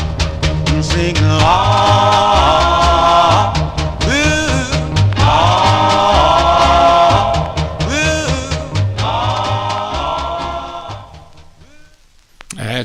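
A 1958 doo-wop single plays loudly and continuously, vocal harmonies riding over a steady bass line and rhythm, fading toward the end.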